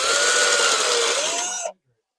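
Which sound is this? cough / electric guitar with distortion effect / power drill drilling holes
power drill drilling holes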